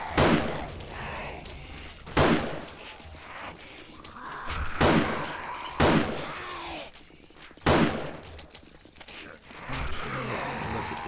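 Gunfire in the video game 7 Days to Die during a multiplayer session on the Badlands map: loud, sharp single shots spaced a couple of seconds apart, with quieter game ambience and movement between them.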